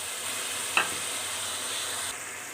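Tomatoes and spices frying in a pan for chicken shorba, a steady broadband sizzle with a single sharp utensil tap early on and a slight drop in level near the end, no voices.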